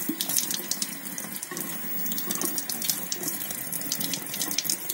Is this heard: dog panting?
no